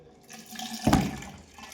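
Water pours into a bottle in one short, close gush that swells and fades within about a second against a quiet room, with no speech.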